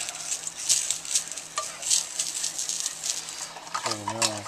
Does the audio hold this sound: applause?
no